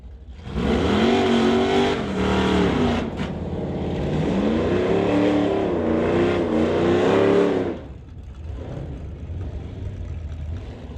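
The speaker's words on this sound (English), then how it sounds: "Just so much power in that Mustang with that Coyote engine." A Ford Mustang with a Coyote engine revs hard at a street-legal drag race, with rising and falling engine pulls over several seconds, then drops to a lower rumble as it fades.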